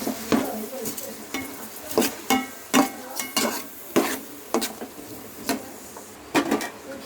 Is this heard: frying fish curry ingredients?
yes